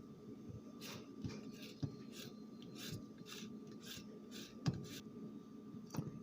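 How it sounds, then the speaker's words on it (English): A eureka lemon grated for zest, repeated soft rasping strokes in a steady rhythm, close but faint, with occasional light knocks in a quiet kitchen. "We begin grating the lemon."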